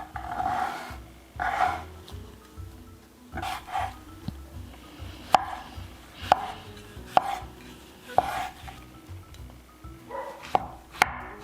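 A knife chops shiitake mushroom stems on a cutting board, irregular bursts of quick cuts separated by short pauses, close and fairly clear, with no talking.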